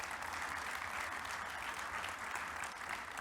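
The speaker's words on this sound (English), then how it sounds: "A round of applause" Steady applause from a conference audience at a capital and policy dialogue in Africa, a continuous wash of many hands clapping, moderately faint throughout.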